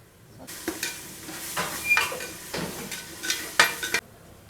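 Onions frying in a pan after garlic ginger paste has been added, with a soft steady sizzle broken by repeated scraping and clinking strokes of a spoon stirring against the metal.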